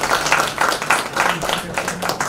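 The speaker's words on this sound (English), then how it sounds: "applause for him" Audience at a chemical society conference breaks into applause, a steady patter of many hands clapping across the hall for a couple of seconds.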